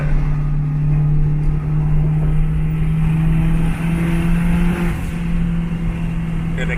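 Car with a K20 engine accelerating in fifth gear at partial throttle, a steady droning engine note with a strong low hum that holds loud and even throughout, with road and wind noise underneath.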